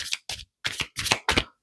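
A deck of cards is shuffled by hand in several quick riffling bursts separated by short pauses, close and clear with no talk over it.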